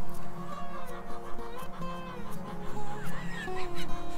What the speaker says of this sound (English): it seems the hens want to stay in on the action here too